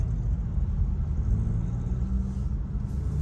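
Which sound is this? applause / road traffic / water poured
road traffic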